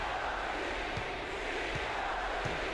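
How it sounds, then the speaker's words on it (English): A basketball video game crowd chants "beat the Heat" in a dense, continuous roar, with faint rhythmic accents from the chant under steady arena noise. "the crowd's definitely saying beat the Heat"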